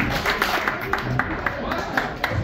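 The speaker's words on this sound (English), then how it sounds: "Clap twice if you're seated in the back and you can hear me clearly." Wedding guests at the Squantum Association in Rhode Island clap in a run of sharp, evenly spaced claps at moderate distance, with a voice talking underneath.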